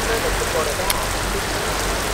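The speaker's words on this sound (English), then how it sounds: "it's pouring rain and my back getting soaked" Heavy pouring rain outdoors near a ferry terminal, a steady close wash of drops beating on surfaces with no let-up across the whole stretch.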